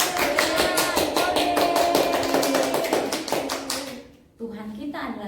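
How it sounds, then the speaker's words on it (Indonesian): Children at an online Sunday school worship session clapping their hands in a quick, even rhythm of sharp claps that stops near the end, leaving a brief quieter moment with faint voices afterward. "Tepuk tangannya, beri tepuk tangan."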